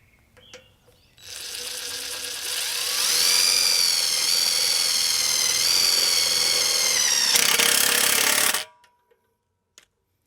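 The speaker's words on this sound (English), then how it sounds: "Now I've got my 5/16 socket on my impact driver, and this is the self-tapping screw, and I'm just going to put the first screw in." An impact driver with a 5/16 socket drives a self-tapping screw into a hitch chain box, one loud sustained run of about seven seconds that climbs in pitch as it hammers, then stops abruptly.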